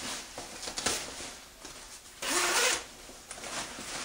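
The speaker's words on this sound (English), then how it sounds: "It's got a zipper." A clothing zipper is pulled in several quick strokes, one longer rasping zip in the middle, close and fairly quiet.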